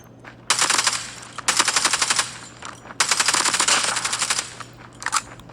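Automatic gunfire in Call of Duty Mobile with aim assist on, rapid rattling bursts: a short one, then several long sustained volleys separated by brief pauses, loud and close with a final quick burst.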